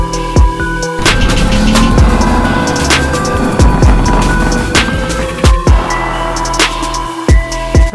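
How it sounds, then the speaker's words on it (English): Mansory Lamborghini Urus Venatus supercar, loud and close, its engine roaring through a sustained high-rev pass with sharp cracks and pops bursting out repeatedly toward the end. "Mansory Lamborghini Urus Venatus"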